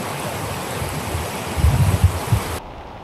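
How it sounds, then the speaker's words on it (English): Rain falling on the Annapurna Base Camp trek in Nepal: a steady, close broadband hiss with soft low thuds, cutting off abruptly just before the end. "it's starting to rain"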